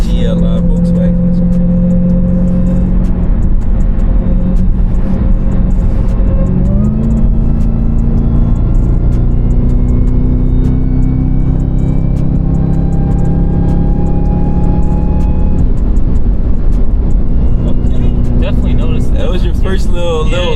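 Jeep Grand Cherokee Trackhawk engine pulling hard from inside the cabin, a loud deep roar rising in pitch through gear changes, with people talking over it.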